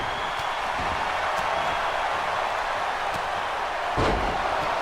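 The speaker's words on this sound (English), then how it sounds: "Mad Dog X with the gorilla press on X." A single heavy thud lands near the end as a wrestler's body is dropped onto the ring mat from a gorilla press slam, rising out of steady crowd noise at a wrestling event.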